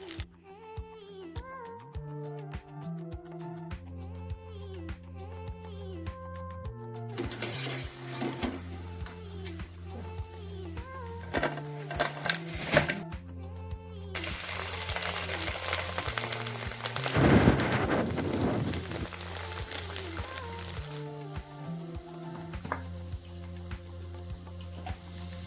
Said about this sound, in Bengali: মাশরুম পকোড়া করতে হলে বন্ধুরা কম আঁচ দিয়ে একটু ভাজবে